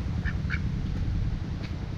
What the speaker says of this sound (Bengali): বাজারের রাস্তাতে একটা হাঁসে পানি খার গুছলো।